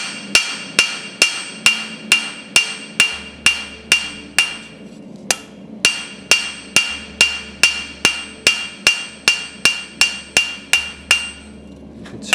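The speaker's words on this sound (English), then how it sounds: "come to the edge of the anvil and work it over the edge of the anvil" A blacksmith hammers a metal leaf over the edge of an anvil in loud, sharp, ringing strikes at a steady pace, about two per second, alone with no voices.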